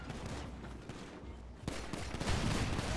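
Gunfire from a shootout in a video game, heard as a dense, continuous crackle of shots that grows louder and busier toward the end, with no distinct single reports standing out.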